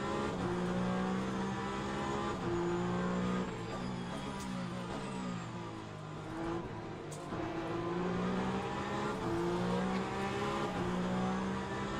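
Engines of race cars on track in the sim racing game Le Mans Ultimate, during the 2 hours of Sebring, with a loud onboard engine note rising and falling through gear shifts and corners, and other cars audible nearby.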